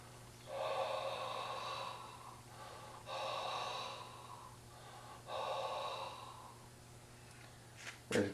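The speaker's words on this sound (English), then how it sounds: "I'm just going to breathe on this center section and watch the indicator droop" A person breathes out on the center section of a metal level frame in three long, soft, close exhalations separated by quiet pauses, over a faint steady hum.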